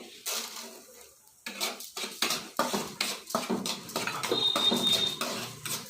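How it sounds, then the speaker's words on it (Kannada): Toor dal and coriander seeds dry-roasting in a pan for a chutney powder, a ladle scraping and stirring in quick repeated strokes, close and clear, with faint metallic clinks. "ಈಗ ತೊಗರಿಬೇಳೆ ಹಾಕ್ಕೊತಾ ಇದ್ದೀನಿ."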